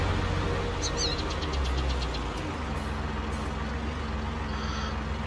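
A tractor engine in the video game Farming Simulator 19 drones loudly and steadily, with a brief high beeping warning tone early on, with no talking over it.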